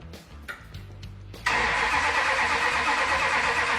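A crop duster hot rod engine with no ignition spark turns over without firing: a few soft knocks, then a loud, steady starter whir that continues to the end, close by, with no voices.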